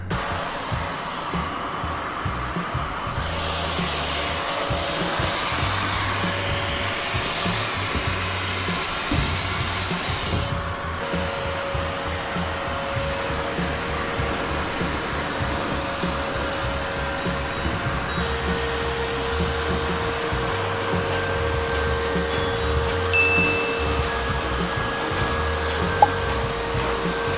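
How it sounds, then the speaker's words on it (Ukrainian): A loud, continuous industrial vacuum cleaner drone with a steady whine, cleaning high up under a factory ceiling, running without pause for the whole stretch and no talking over it. "Ну, пылесос."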